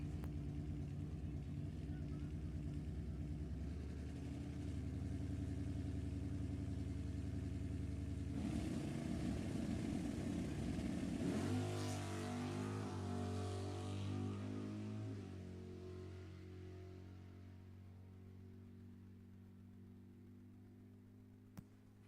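Drag racing car on a solo pass at Sacramento Raceway during an NHRA National Open, a loud sustained engine roar that shifts in pitch partway through and then fades as it pulls away, with announcer talk over it.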